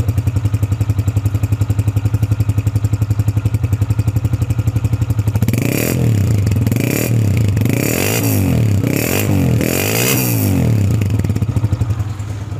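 A 2005 Honda CG125 motorcycle engine idles steadily, then is revved repeatedly in rising and falling bursts, loud and close.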